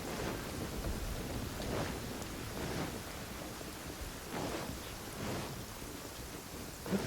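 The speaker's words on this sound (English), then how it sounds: "Ooh, it's raining here." Rain and thunder in the video game Genshin Impact: a constant hiss of steady rainfall with several soft, rolling thunder rumbles swelling and fading, and no speech.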